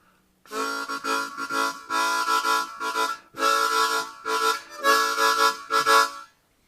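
Harmonica blow chords on holes 1 and 2, then 1, 2 and 3, in a series of sustained bursts separated by short gaps, loud and close, with no voice.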